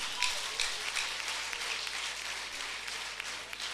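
A congregation at a church service gives applause, a steady even patter of many hands clapping at a moderate distance, with no voices over it.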